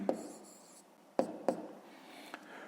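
A pen scratches on paper while working a fifth-grade math exercise, a few short, quiet strokes and taps close by in a hushed room.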